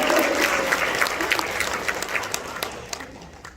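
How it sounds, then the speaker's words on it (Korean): Audience applause at a seminar, a dense burst of clapping from a crowd that starts loud and gradually thins and fades over a few seconds. "여기서 박수 나와야 되는데요."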